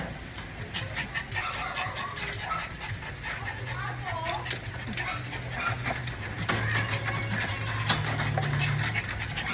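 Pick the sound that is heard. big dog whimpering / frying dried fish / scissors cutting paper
big dog whimpering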